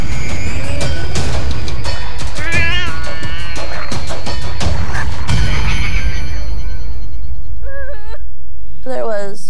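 A house cat fighting in the night, with harsh yowls, caterwauling and wavering meows rising between clattering bumps and knocks, loud and close, ending in a few strained cries.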